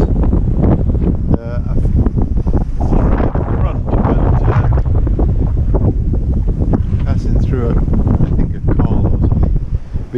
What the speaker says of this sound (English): because the wind has veered as well as has increased